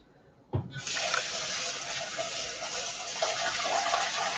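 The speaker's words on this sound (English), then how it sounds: "So we're just going to rinse that off" Tap water runs steadily into a bowl of rice being rinsed for meal prep, a continuous close splashing rush that starts abruptly after a brief knock and carries on alone without talk.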